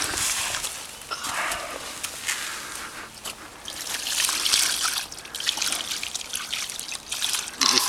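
Water trickles and splashes over a freshly caught carp of about 28.5 kg, a close, uneven dribbling and pouring that rises and falls over several seconds with no speech.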